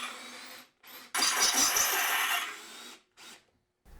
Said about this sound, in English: Using a drill gun with the included T40 driver bit and fastener screws, drive the fastener screws into the steps to secure each post.